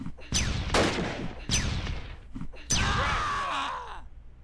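Grenade blasts and gunfire from the Close Combat wartime strategy game: several sharp bangs with decaying tails, then a longer ringing explosion near the end, loud and alone with no talking.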